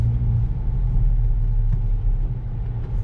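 Acura Integra Type S pulling away on a test drive, a steady low engine rumble and road noise heard from inside the cabin, with no talking.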